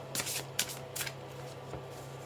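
Tarot cards are shuffled close by in a steady papery riffle, with soft rapid flicks and a low constant hum behind them and no speech.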